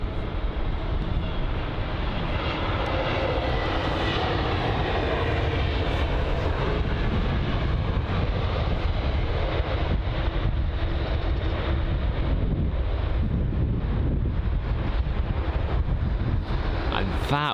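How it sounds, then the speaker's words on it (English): An Iberia Airbus A320neo from Madrid lands at London Heathrow, its jet engines a continuous broad roar that stays loud and steady throughout, heard from a distance outdoors. "So it's the Iberia A320 neo from Madrid."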